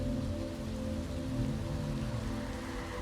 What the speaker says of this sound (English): here, on this rainy night, you share the same city heartbeat